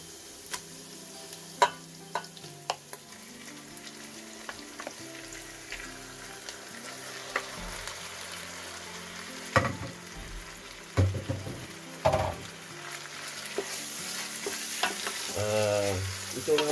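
Beef for beef pares fries in a hot pan, giving a steady sizzle marked by scraping and clattering stir strokes that grow busier and louder toward the end.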